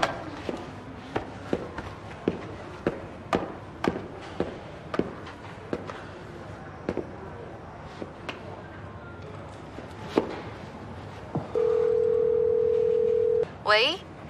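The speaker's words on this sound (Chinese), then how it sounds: "那我跟他打个电话联系一下" A steady telephone tone sounds for about two seconds as a call is placed from a front desk in a Chinese urban drama. It follows a run of sharp taps and footsteps, and a brief chirp closes the call.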